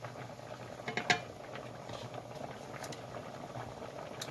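A pot of plain rice simmers on the stove, a low steady bubbling with faint pops and a couple of light clinks near the start, quiet and close with no voices.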